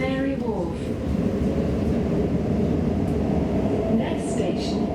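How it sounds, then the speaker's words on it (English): London Elizabeth line train to Abbey Wood via Canary Wharf, a steady loud rumble and rolling drone from inside the carriage with a falling electric whine at the start, under speech. "train to Abbey Wood via Canary Wharf."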